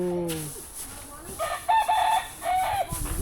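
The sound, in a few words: rooster crowing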